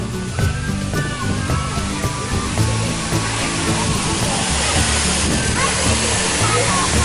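Sai Yok Noi waterfall in Kanchanaburi, Thailand, busy with weekend tourists: a steady broadband roar of falling water close by, continuous throughout with no pauses.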